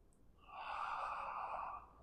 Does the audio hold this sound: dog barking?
no